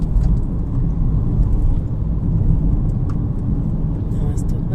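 A car rolls slowly along a town street, its engine and road noise forming a steady low rumble throughout, with a few faint higher clicks above it.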